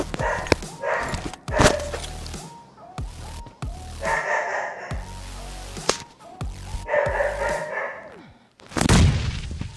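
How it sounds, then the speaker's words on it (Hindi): A dog barks indoors while a PUBG Mobile match plays, with repeated sharp barks at irregular intervals mixed with in-game gunfire and explosion booms. "इग्नोर करना है कुत्ते की भौंकने की आवाज़। ये मेरा कुत्ता पता नहीं आज क्यों भौंकी जा रहा है।"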